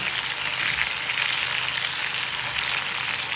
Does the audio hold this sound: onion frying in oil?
yes